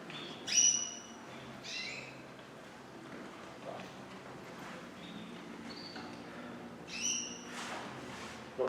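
Small canaries chirp in short, bright bursts at a feather competition in a busy hall, with calls scattered across the stretch under a steady crowd murmur.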